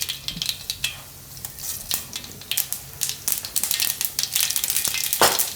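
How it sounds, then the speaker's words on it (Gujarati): Mustard seeds popping in hot oil for a Gujarati green bean dish, a busy sizzle studded with rapid sharp crackles and pops that grow denser and louder, close up and without talk. "ને તેલ આપણું ગરમ થઈ ગયું છે. તો એમાં આપણે થોડીક રાઈ નાખીશું."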